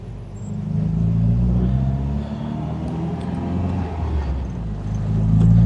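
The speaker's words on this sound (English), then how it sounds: "this car sounds amazing." An old MGB sports car accelerating on the Castle Combe race track, a loud, deep engine rumble that swells and eases and then climbs again, heard alone without talk.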